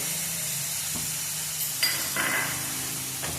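Finely chopped tomato hits frying onions with a burst of hissing sizzle over a steady background fry, plus a couple of light clinks from stirring; no one speaks.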